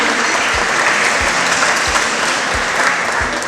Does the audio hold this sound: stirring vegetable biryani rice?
no